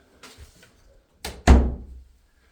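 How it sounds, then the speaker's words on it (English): Door in a house being opened and closed: a soft scrape and rattle, then a sharp knock followed by a louder thud as it shuts, heard close in a quiet room. "Let's take a look at this door."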